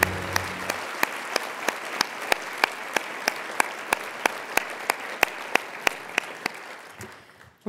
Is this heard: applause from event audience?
yes